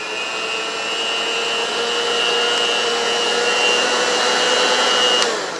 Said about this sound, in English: So if you take your little hand mixer here and only put one of the blades in it, put that, it fits in your peanut butter jar.